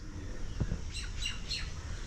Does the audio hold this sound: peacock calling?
yes